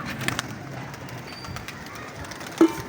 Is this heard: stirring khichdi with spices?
no